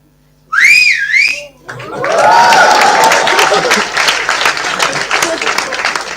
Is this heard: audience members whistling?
yes